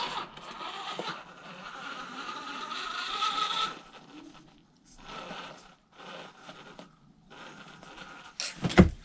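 An RGT RC crawler truck inching along slowly, faint whirring of its electric motor and gear train coming in uneven bursts with pauses, ending in a sharp louder clack.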